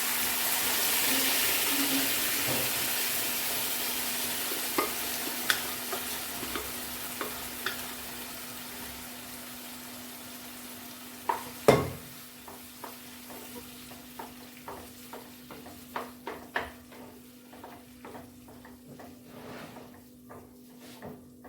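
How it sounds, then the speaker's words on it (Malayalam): Boiled potatoes frying for a Kerala-style masala dosa filling make a soft, low sizzle, overlaid by a rhythmic series of light spatula taps and scrapes as they are stirred, growing busier toward the end. "അതിലേക്ക് നമുക്ക് മസാലക്ക് ആവശ്യമുള്ള കിഴങ്ങ് വേവിച്ചതും കൂടി ഇട്ട് കൊടുക്കാം."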